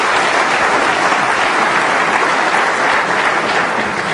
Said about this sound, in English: Nice round of applause from Peter Ebden